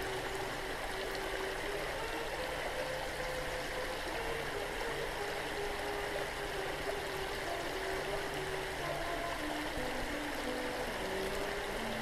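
A creek flows steadily in the open air, its constant rushing and trickling filling the whole span at an even level, with a faint low engine hum from passing traffic somewhere underneath.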